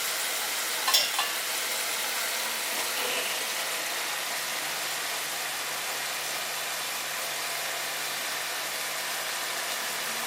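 Atta noodles fry on a high flame, a steady broad hiss of frying that fills the background evenly, with a couple of brief clinks near the start and no talking.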